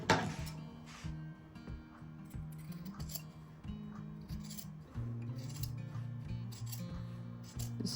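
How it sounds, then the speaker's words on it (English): Scissors snip and rub through embroidery stabilizer and fabric on an in-the-hoop zip bag, making soft close-up cutting strokes and light scraping sounds in a quiet room. "everything from the stabilizer there you can cut away as well."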